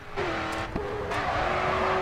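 In the racing game GRID 2, a car's engine drones as it slides through a corner in a drift, tires squealing in sharp bursts over the steady motor noise, loud and close.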